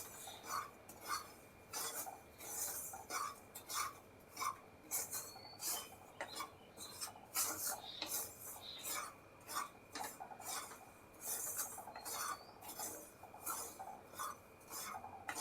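Semolina (suji) dry-roasting in a pan over low heat makes repeated soft, scraping stirs, each a brief rasp of spoon against metal in a steady, unhurried rhythm at low volume.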